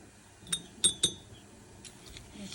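A metal spoon clinks against a glass cup while sugar is added to tea made with powdered milk: three sharp, close clinks in quick succession, then a few fainter taps, with no talking.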